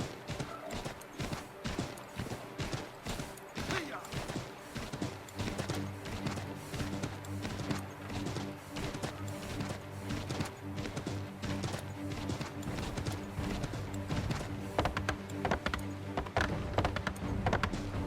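Rapid horse hooves clip-clop continuously on hard ground in the video game Assassin's Creed 3 Remastered, a steady galloping rhythm with occasional thuds, fairly loud and close.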